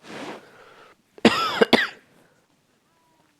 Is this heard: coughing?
yes